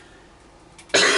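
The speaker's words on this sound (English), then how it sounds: "I need to cough" A single loud, sharp cough bursts out near the end after a quiet stretch of room tone, close to the microphone.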